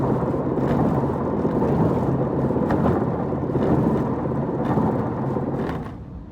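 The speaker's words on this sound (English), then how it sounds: "Very windy out there." Strong wind from a storm squall in Australia buffets and roars in gusting waves, rumbling low and loud, easing slightly at the end.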